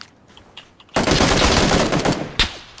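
Dense burst of rapid automatic gunfire in PUBG erupts after a near-silent start, sustained and loud for about a second and a half before a final sharp shot near the end.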